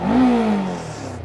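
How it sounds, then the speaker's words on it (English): A 2022 Kove 525X street motorcycle engine revs up close and loud, its tone climbing quickly and then easing off in a single short rev. "now I'll rev it up for you"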